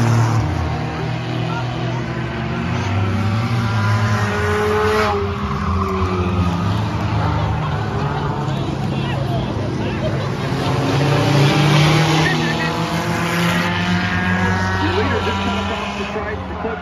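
Chain race cars at Bowman Gray Stadium, engines roaring and droning as they circle the track, a loud continuous sweep of motor noise with rising and falling pitch, while an announcer talks over it.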